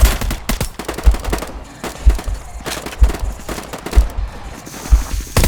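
Glock 18C fully automatic pistol firing in the VR shooter game Contractors: rapid loud bursts of gunfire with sharp repeated cracks and heavy low thumps roughly every second, close and dominant, no talk over it.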